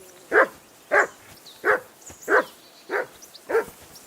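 A dog barks in a steady rhythm in the video game Kingdom Come: Deliverance, about seven short gruff barks spaced roughly half a second apart, close and clear with no speech.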